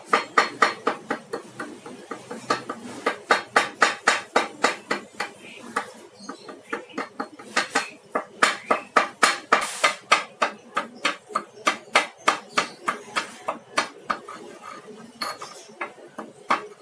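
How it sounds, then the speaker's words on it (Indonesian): Pestle working five CTM tablets in a pharmacy mortar, a steady run of sharp rhythmic clinks and grinding strokes, loud and close, repeating for the whole stretch with no talk. "kita masukkan 5 tablet CTM ke dalam mortir. Aduk atau gerus hingga halus."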